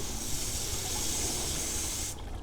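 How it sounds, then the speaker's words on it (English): A garden hose sprays water gently onto charcoal, a steady, soft hiss running for about two seconds, then cutting off abruptly. "I'm just spraying it gently, trying to wash all the dirt out of it."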